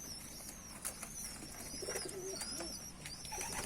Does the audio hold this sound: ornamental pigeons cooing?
yes